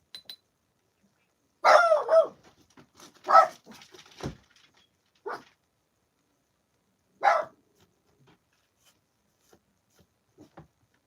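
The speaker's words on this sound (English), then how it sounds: "Sorry, that's my dog barking." A dog barks in a few separate bursts, moderately close and loud, spaced out with quiet gaps between them, and no one speaks over it.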